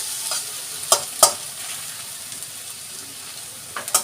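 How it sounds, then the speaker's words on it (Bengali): Onion and egg fry together in a pan with a continuous soft sizzle, broken by a few sharp clicks of a utensil scraping and stirring, close by and without speech. "পেঁয়াজটা একটু ভাজা ভাজা হয়ে এলে ডিমের সঙ্গে একসাথে করে মিশিয়ে নিয়ে ভাজি"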